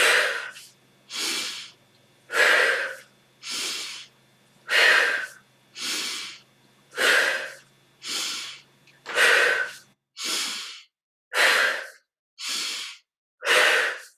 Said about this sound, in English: Inhale. Exhale through the mouth.